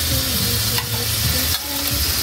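Marinated pork sizzles loudly in a cooking pot for pork menudo, with a continuous hiss of frying and scraping stirring strokes close by.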